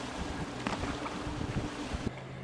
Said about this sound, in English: A little bit of waves coming from motorboats.